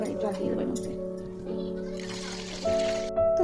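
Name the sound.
water being poured into a cooking pot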